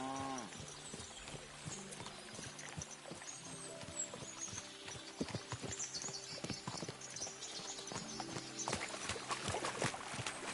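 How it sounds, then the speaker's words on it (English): Horses gallop in the video game Kingdom Come: Deliverance II, hooves clopping rhythmically over a continuous background, growing busier and louder near the end, with no voices. "we'll give the horses a gallop again"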